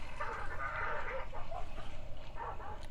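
Dogs barking and yipping in the video game Hunt: Showdown, a run of short, moderately loud barks spread across a few seconds over a steady ambient game background, with no talk.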